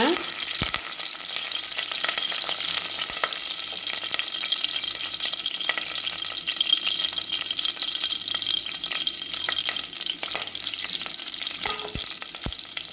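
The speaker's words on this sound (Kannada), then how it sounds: "ಎಲ್ಲ ಚಟಪಟ ಚಟಪಟ ಅಂತ ಇರಲಿ ಇವಾಗೆಲ್ಲ ಬ್ರೌನ್ ಇದಕ್ಕೆ ಬರಲಿ" Lentils and seasoning crackling and frying in hot oil for upma, a dense continuous sizzle with scattered pops and the occasional clink of stirring, loud and close with no talking.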